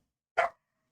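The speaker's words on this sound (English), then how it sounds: "pardon the dogs barking" A single short, sharp dog bark sounds once in an otherwise quiet room, moderately close and alone.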